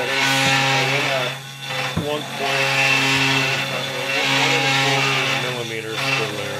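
A Genmitsu 3018-Pro CNC router cuts plywood with a loud, steady high whine that dips and rises as the bit moves, with a brief knock partway through and a voice talking over it.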